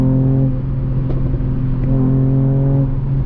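A 2021 Mercedes-AMG E53 Convertible engine holds a loud, steady drone close by, with a rising rev swell in the second half.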